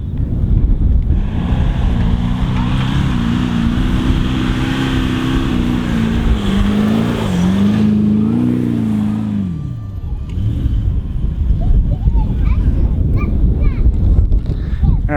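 A vehicle driving through sand, heard as a loud, steady engine roar with wind buffeting the microphone, the engine note rising and then dropping away near the end.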